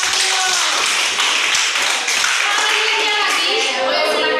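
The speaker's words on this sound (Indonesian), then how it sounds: "tepuk tangan untuk kelompok 4" A classroom group gives a dense round of applause for a presenting group, with many hands clapping steadily for several seconds amid faint children's voices.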